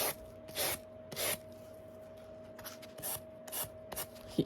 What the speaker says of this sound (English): I'm just taking a sanding block and I'm just going along the edges